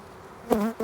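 Honeybees at a backyard hive give a short, close buzz that lasts under a second, with a bee droning past the microphone.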